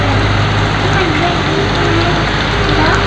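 Ground garlic sizzles in a degchi cooking pot over a village cookfire, a loud, dense, continuous crackling hiss heard up close.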